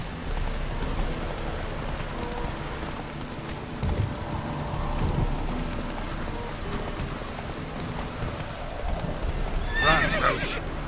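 A horse in The Witcher 3 trots with a steady clip-clop of hooves under rain, then gives a clear whinny near the end, with brief speech in between.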